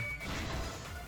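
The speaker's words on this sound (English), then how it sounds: "It sounded like something heavy fell down and hit the floor really hard." In the video game Danganronpa V3, a heavy object falls and slams hard onto the floor with a single short, loud crash and a brief dull rumble.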